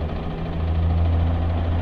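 A 2022 Zontes GK350 motorcycle engine runs at a steady idle just before being switched off, giving a loud, close, continuous low rumble with a constant hum.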